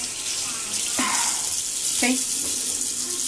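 Tap water runs steadily into a sink while a paint brush is rinsed under it, a continuous hiss with brief splashy changes as the brush moves, and a person says a single short word.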